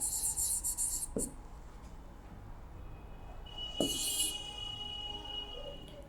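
A quadratic equation being written out by hand for a class 10 maths lesson, with a quick burst of scratchy strokes at the start and another short run of writing a few seconds later, quiet in between.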